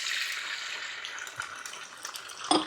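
Eggs fry in hot sausage grease and avocado oil, giving a steady, close hiss of sizzling with a few brief pops and no voices.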